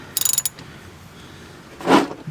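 A wrench works an 8mm bolt on a Polaris Sportsman 570 ATV, giving a quick run of sharp ratcheting clicks near the start and a brief scraping clunk near the end. The sounds are close, with no talk.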